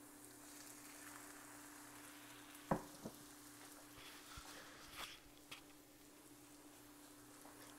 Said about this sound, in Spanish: Es el momento de agregarle los nopales que ya tenemos aquí cocidos.